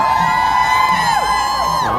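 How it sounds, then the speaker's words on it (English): Crowd at a Women's March cheering and whooping outdoors, a dense steady roar with rising shouts and whistle-like cries layered over a constant buzzing tone throughout. "cheering"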